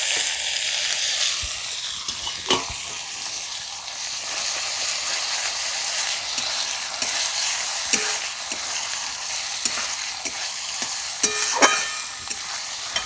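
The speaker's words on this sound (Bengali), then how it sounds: "এবার কুচনো লঙ্কাটাও দিয়ে দিচ্ছি, সঙ্গে ধনে জিরে বাটাটাও দিয়ে দেব, আর এখানে কুচনো টমেটোটাও দিয়ে দেব।" Chopped chilli, coriander-cumin paste and chopped tomato frying for a dhaba-style egg tadka, a loud, continuous hiss and sizzle with occasional sharp crackles and spoon clicks against the pan, close up, no talking.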